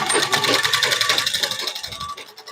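Sewing machine running steadily while stitching a tacking seam on a blouse bodice, a continuous fast whirring rattle of the needle close up, with no voices.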